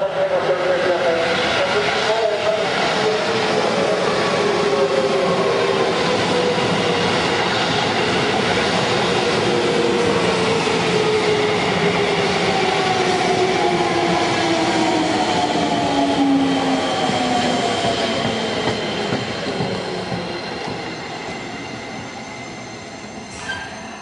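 A Seibu 20000 series semi-express train for Shakujii-koen pulls into Akitsu station with a loud, sustained rumble and squealing wheels that slowly fade as it comes to a stop, with station announcement voices faintly underneath.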